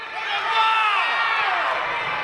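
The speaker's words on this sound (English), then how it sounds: "this Huntington crowd is irate" Spectators at a women's college basketball game in Huntington roar in protest after a missed foul call, a loud, sustained crowd outcry with rising and falling shouts close around.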